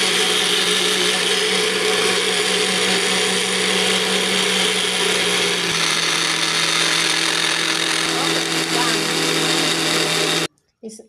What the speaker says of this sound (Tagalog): Okay, takpan na natin. Mag-blender.